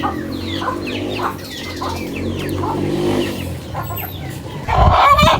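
Chickens clucking and squawking close by, a busy flock with overlapping calls, and a louder burst of flapping and cackling near the end as one chicken is caught.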